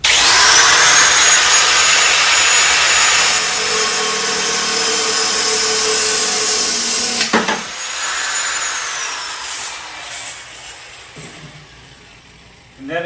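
An angle grinder with a cutoff wheel cuts through pipe at an outdoor patio outlet, a loud continuous abrasive whine lasting about seven seconds that stops abruptly, followed by a quieter winding-down hum and faint handling noises.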